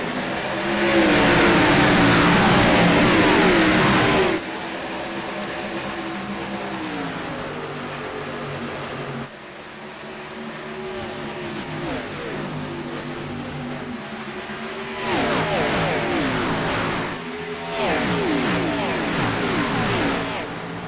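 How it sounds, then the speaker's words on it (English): Race car engines roar at the green-flag start of an ARCA-style stock car race at Darlington, the pack revving loudly and shifting through gears as the field passes in sustained waves. "Time to crank up the engines, light the fires, and spin the tires."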